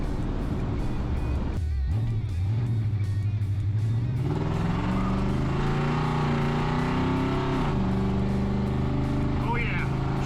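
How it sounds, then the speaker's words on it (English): A 1974 Chevrolet C10 shortbed shop truck with a race car engine revs hard, its loud, close engine note rising and falling in pitch across repeated pulls while people talk over it. "It's okay, she's a race car engine."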